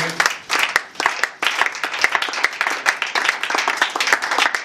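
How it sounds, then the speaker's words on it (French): A church congregation at a Bible seminar claps and applauds steadily in acclaim of the Lord, a dense, loud, continuous round of many hands that stays even from start to finish. "Nous allons acclamer le Seigneur."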